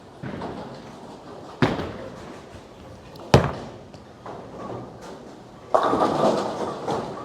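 A Global 900 Zen Master bowling ball rolls down the lane with a low rumble, then strikes the pins in a loud crashing scatter, leaving the 9 pin standing. Sharp thuds come earlier, and the lane is moderately distant.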